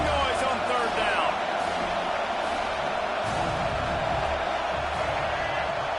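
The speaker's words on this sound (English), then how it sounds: "This dog crowd is off the leash, and they are coming after them, bringing noise on third down." Roaring stadium crowd noise in the Madden 26 football game, a steady dense wash of cheering and shouting on third down that holds throughout, with a commentator talking over it.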